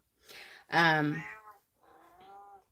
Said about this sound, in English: And now he's gonna meow.